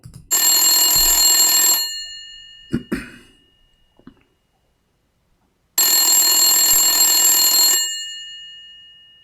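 Old landline telephone ringing with a bright metallic bell, two long bursts separated by a few seconds of quiet, with a brief cough-like noise in the gap.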